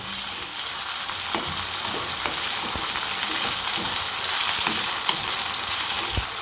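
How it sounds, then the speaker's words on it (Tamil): Tomatoes sautéing with ginger garlic paste in a pan for chicken tikka biryani, a steady loud sizzle with scattered stirring clicks and scrapes throughout, no talking. "இப்போ நான் இதில் கொஞ்சம் தக்காளி சேர்த்துக்கிறேன் இதையும் சேர்த்து நல்லா வதக்கி விட்டுருவோம்"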